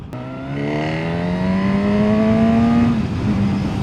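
A 2025 Honda Hornet CB1000 motorcycle engine revs up in one smooth, rising climb through its airbox, loud and close, then drops off abruptly near the end.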